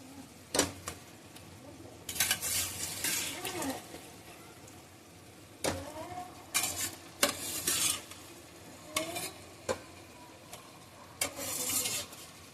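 Chicken and yogurt are stirred in a hot pan for biryani. A utensil scrapes in short, irregular strokes over a low sizzle, heard fairly quietly and close up.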